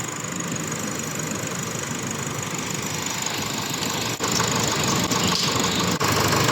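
A 2020 Nissan Terra engine runs after an overhaul, a steady mid-pitched idle with a light knocking texture, close and constant, briefly dipping near the end.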